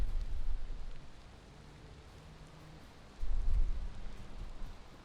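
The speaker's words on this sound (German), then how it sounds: "Ja, jetzt kommt der Regen auch zu mir." Steady rain falls in the video game Valheim, a dense continuous hiss with heavier low rumbling surges near the start and again in the second half, alone with no talk.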